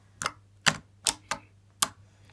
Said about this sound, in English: And if everyone be quiet, you can hear the poking noises.